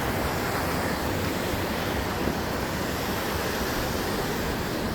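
Heavy rain pouring during a street flood, a dense, unbroken roar of water and wind noise filling the whole stretch at a loud, steady level with no speech.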